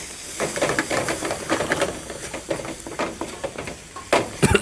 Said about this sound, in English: Now let's saute this for a minute or so.